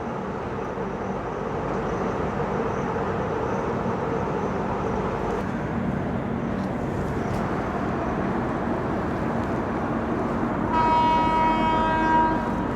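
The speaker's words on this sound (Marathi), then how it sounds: "चला हॉर्न दिलं ट्रेन" A steady rumble of a waiting Gondwana Express at a station, with a loud, sustained train horn blowing near the end.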